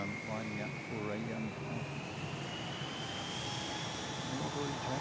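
A jet airliner takes off on a northerly heading at Christchurch airport, heard from a mound on Harewood Road as a steady, broad engine roar with a rising whine, moderately distant, while a person talks over it.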